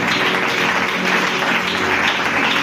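Sustained applause from a worshipping congregation in church, continuous even clapping held at a steady level throughout with a faint murmur of voices beneath.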